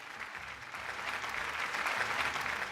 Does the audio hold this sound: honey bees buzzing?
no